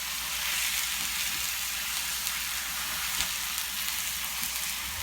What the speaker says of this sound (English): So while the ground pork is browning